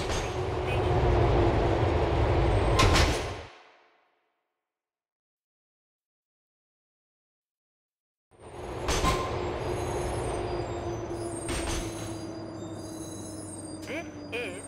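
A subway train on the 3 line in GTA IV rumbles along with a low steady roar and a high wheel squeal. The sound cuts to silence for several seconds, then the rolling rumble and screeching return.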